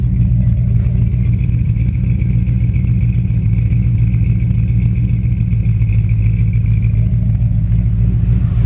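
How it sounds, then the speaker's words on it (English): Car idling at about 800 RPM through Flowmaster exhaust mufflers, a steady, loud, low rumble with a faint mid-range drone, unchanging for the whole stretch, no voices. "Our test strip with the Flowmasters. We'll give you a warm idle sound bite"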